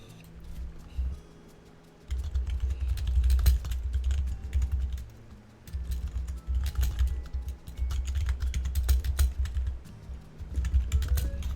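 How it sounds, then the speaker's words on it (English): Rapid typing on a computer keyboard during a Final Fantasy XIV stream, a dense run of close key clicks in bursts separated by short pauses, over a low background hum. "Just typing this out real quick."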